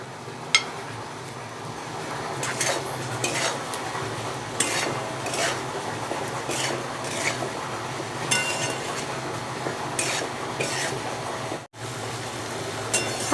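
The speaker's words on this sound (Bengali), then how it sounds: "আমার আলু আর ওলগুলো ভালোভাবে মশলার সাথে কষানো হয়ে গেছে" Potatoes and elephant foot yam being stirred into a thick spice paste in a pan for a Bengali ilish curry, repeated scraping strokes of a spatula over a low sizzle, steady and close, with one brief dropout.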